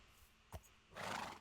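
A horse in Minecraft gives a short, breathy neigh, faint and quick, after a soft thump.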